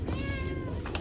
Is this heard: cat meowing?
yes